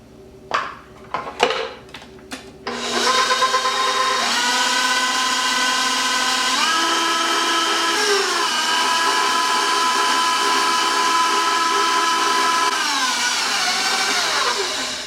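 An electric mixer whirs steadily and loudly while mixing pumpkin pie filling, starting after a few sharp clinks and running as a continuous hum with slight pitch shifts, then winding down at the end.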